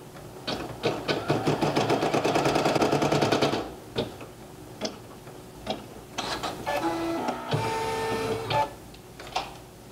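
A single-needle embroidery machine sews an appliqué tack-down stitch through fabric, a loud, fast, steady mechanical whirr of needle strikes for several seconds, then pauses and short bursts of stitching and motor hum, with no talking.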